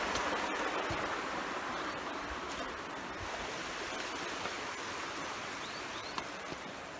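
River water flows near Meldon reservoir with a constant, even rushing wash that stays close and fairly loud throughout. A few faint clicks sit on top.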